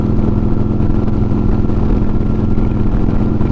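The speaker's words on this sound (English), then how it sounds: "It's Vance and Hines 2-in-1 exhaust. It sounds good." A 2009 Harley Road Glide motorcycle with a Vance and Hines 2-in-1 exhaust rumbles loudly and steadily at close range, a deep, dense engine throb without talk.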